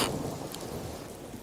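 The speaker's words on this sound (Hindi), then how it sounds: "एक तो बारिश हो रही है, सारी लकड़ियां भीग गई हैं" Steady rain pours with a low thunder rumble underneath, a brief continuous wash with no voices.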